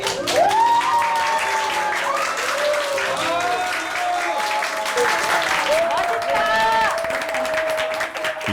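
A large crowd at a Korean baseball game cheers and claps loudly for a pitcher, with rising whoops and shouts over continuous applause, like a stadium roaring.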